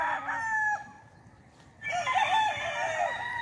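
Roosters crow and chickens cluck at a farm in Tanay, Rizal, two crowing calls close by, separated by a brief quieter gap, with no talking.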